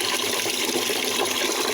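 Tap water pours steadily into a container, a loud, even rush of splashing with no pause.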